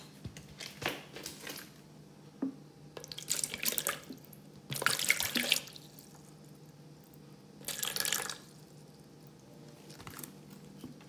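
Distilled water is poured into a container on a scale for making turmeric soap, giving soft, quiet splashing bursts of pouring with a few small clinks between them.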